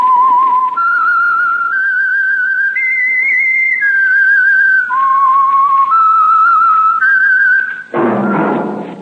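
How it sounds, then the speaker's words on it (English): A person whistles a clear, steady melody of sustained notes stepping up and down, loud and close, ending with a dull thump, the signature whistle of an old radio drama. "That whistle is your signal for the Signal Oil program"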